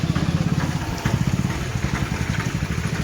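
A motorcycle engine runs at a steady, rapid pulsing idle close by, its loud low throb continuing without a break in rainy weather.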